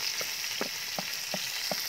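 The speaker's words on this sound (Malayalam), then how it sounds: "സവാള നന്നായിട്ട് ഒന്ന് വഴലട്ടെ" Onions frying in hot oil with popped mustard seeds for bamboo biryani, a close steady sizzle with soft repeated stirring taps about every third of a second.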